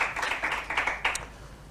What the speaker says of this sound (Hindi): बहुत ज़्यादा क्लैपिंग मेरे बच्चों के लिए